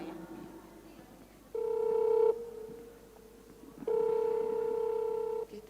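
Telephone dialing and ringing tones during a phone call, two sustained steady electronic tone bursts of about a second and a half each, separated by a quieter hum, clear and close with no voices.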